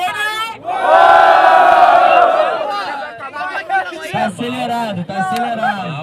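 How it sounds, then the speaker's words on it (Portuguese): A crowd at a São Gonçalo street rap battle shouts and cheers loudly in a sustained roar, then breaks into scattered yells and chatter with voices cutting through. "Vamos pro alto e muito barulho para Fael e Lia."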